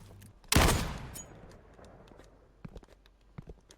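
A video game gunshot fires once, loud and sharp, and rings out over about half a second. A few faint clicks and taps follow at a distance.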